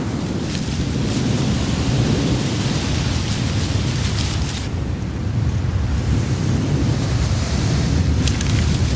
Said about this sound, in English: bringing with it heavy rain and high winds